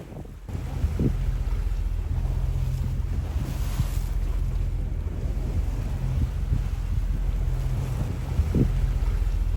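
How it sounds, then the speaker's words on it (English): A boat crosses the Atlantic Ocean off Tenerife, Spain, with steady, loud wind buffeting the microphone over a low engine rumble and rushing water, continuous throughout with no voices. "We took a 3-mile boat ride in the Atlantic Ocean"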